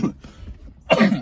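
A person coughs twice close by, short harsh bursts separated by a brief pause, inside a car.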